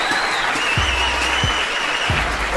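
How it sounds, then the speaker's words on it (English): Audience applause, a dense burst of clapping that stays steady and loud throughout, with a few low thumps mixed in. "Can I get a round of applause?"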